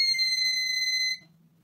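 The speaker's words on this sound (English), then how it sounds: "watch the LED light up while the buzzer adds a touch of excitement" A small electronic buzzer triggered by a mercury tilt switch in an LED circuit emits a steady, piercing high tone for about a second, then cuts off abruptly, leaving a faint low hum.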